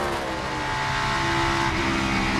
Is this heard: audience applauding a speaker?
no